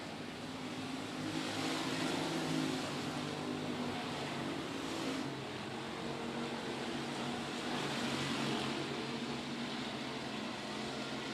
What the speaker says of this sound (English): Here comes Cook to the inside of Raines, and he's going to try to slide up and take the line